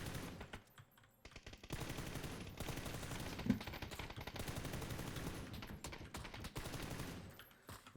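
M4 rifle in PUBG firing a full magazine in a sustained rapid burst of closely packed shots, loud and continuous for most of several seconds with a brief gap near the start, no talking.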